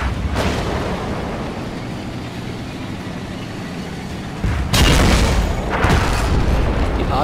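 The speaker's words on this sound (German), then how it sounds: "Die Arti mischt jetzt auch mit, man sieht es hier an der Einschläge." Artillery shells land in the tank game World of Tanks: a low, steady rumble, then two heavy booming impacts close together near the end.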